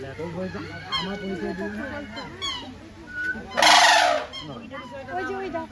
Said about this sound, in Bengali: এই সারসটা ডাকছে।